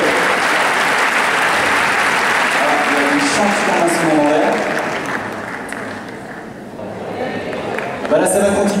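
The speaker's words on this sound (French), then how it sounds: "On peut l'applaudir encore une fois" Audience applause for a singer at a senior talent show: a sustained round of clapping that thins and fades toward the end, with a voice coming in over the last moments.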